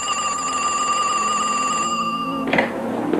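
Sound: telephone ringing

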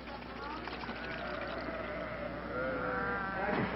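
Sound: sheep bleating

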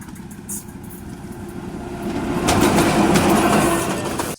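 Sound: train passing over a coin on the railway track

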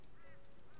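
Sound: ravens calling in the video game Rust

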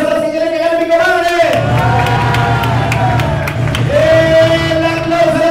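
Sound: audience applauding and cheering for a contestant

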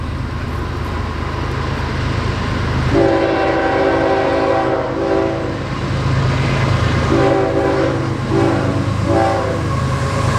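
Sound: train passing and sounding its horn

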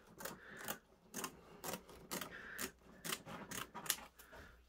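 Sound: scissors cutting two layers of stiff leather

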